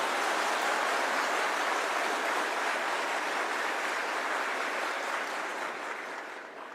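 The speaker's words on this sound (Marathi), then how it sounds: "पोरो आपल्या टाळ्या दाखवा एकदा पाऊस पडल्यावाने." Young men in an audience at a Marathi comedy speech applaud hard, a dense hissing roar of clapping much like heavy rainfall that holds for several seconds and then begins to thin out at the end.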